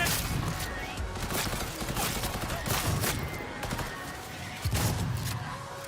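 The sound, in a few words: gunfire in Cyberpunk 2077 video game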